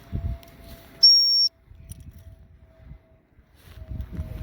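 A single sharp, high-pitched dog stop whistle blast at a beach lasting about half a second, close and loud, with quiet outdoor rustling and low murmurs around it.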